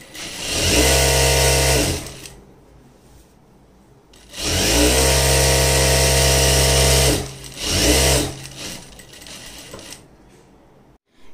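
An industrial sewing machine for stitching shirts and bottoms runs in three loud, fast bursts of steady mechanical hum, each starting and stopping abruptly, with the longest burst in the middle and quiet pauses between them.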